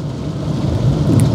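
Rain falling with a low thunder rumble, a steady loud wash that swells slightly toward the end.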